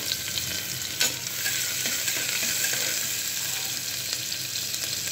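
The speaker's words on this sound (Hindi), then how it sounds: "इसे अच्छे से हम भून लेंगे" Onions fry and sizzle in a pressure cooker for cluster bean (gavar fali) sabzi, a steady close hiss with occasional stirring scrapes and no voices.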